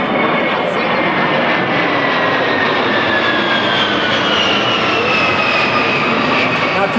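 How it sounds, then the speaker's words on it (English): A T-34 Mentor propeller airplane flown by the Lima Lima flight team passes overhead at a 2004 air show in Gary, Indiana, its engine a loud, steady drone that fills the whole stretch with a slowly shifting pitch. "Next on the program, we're going to be going with our T-34 Mentor, flown by the Lima Lima flight team."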